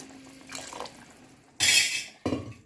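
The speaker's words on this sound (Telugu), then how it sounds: "కొద్దిగా వాటర్ వేసుకోవాలండి" Water is poured in two loud, hissing bursts into a pan of mattikaya pulusu, separated by a brief pause, with quiet kitchen clatter before.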